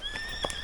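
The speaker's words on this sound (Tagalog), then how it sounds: "Kilala din si Matt ng kabayo." A horse gives a short, wavering neigh, close and moderately loud, with no other sounds over it.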